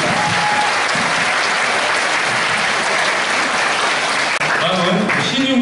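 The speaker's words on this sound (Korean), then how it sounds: "다 같이 큰 박수로 리추얼 경찰서를 축하드리겠습니다." A large crowd claps steadily for several seconds at a church praise-mission contest, a dense, even wash of applause, with speech coming in near the end.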